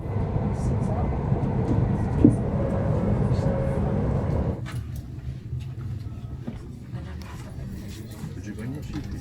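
A train pulls into Glasgow Central station in Scotland, a steady low rumble and rolling rattle that drops to quieter clatter midway, with people talking faintly in the background.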